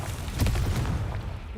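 A Confringo blasting spell in Hogwarts Legacy goes off as a muffled, moderately loud boom with a short burst of crackle, decaying within about a second.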